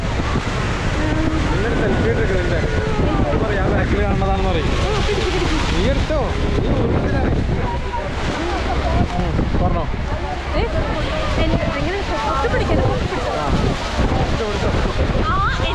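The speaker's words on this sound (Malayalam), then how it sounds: "തൊട്ട് ബാക്കിൽ കാണുന്നതാണ് ഹോർസ് ഫോൾസ്" A steady, dense roar of rushing water at Horseshoe Falls, Niagara, fills the whole stretch, loud and close, with wind buffeting the microphone.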